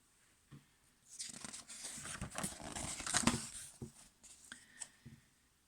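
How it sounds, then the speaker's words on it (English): Scissors snipping a dog's fur during a poodle-style grooming trim, a run of close, crisp little cuts and crinkly rustles that swell, cluster for a few seconds and then taper off into quiet. "The poodle scissors tickled and went snip, snip, snip."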